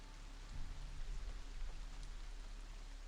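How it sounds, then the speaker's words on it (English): Steady rain falls with water dripping, a soft, continuous patter with scattered faint drops and a low rumble beneath, heard alone without voices. "apart from the steady drip of water and rain"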